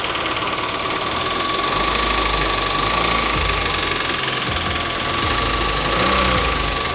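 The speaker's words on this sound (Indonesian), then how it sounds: "Kalau saya dengar dari ketukannya, suaranya itu suara ketukan Mas Jojo" A faulty car engine with a knock runs loud and close, revving with a steady rough tapping beneath a constant mechanical drone.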